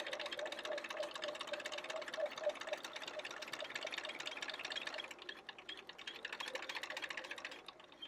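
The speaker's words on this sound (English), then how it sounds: "So I'm going to start stitching." A sewing machine stitching quilt binding runs with a rapid, steady mechanical chatter that slightly changes pace and eases off near the end.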